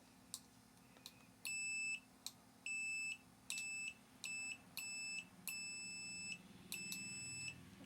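A Kaiweets pen tester set to continuity gives a string of sharp, high electronic beeps, some short and several held for about half a second, fairly loud over a quiet background.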